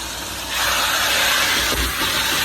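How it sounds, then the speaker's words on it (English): A loud, steady sizzle of steak searing in a hot pan, broadband hiss rising sharply after a quieter start and holding constant, no voices. "I want you to hear that sizzle"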